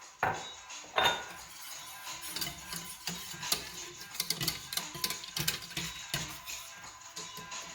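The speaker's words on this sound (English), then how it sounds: "Make sure you're using your tiny whisk to combine." Rapid, light metallic clinking and ticking of a small whisk scraping and tapping inside a pot of hot chocolate, close and continuous.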